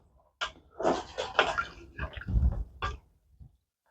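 Smoked chicken soup being stirred in a pot, heard as close, uneven sloshing and liquid swishes in several bursts over a few seconds, with a soft clunk or two and no talk.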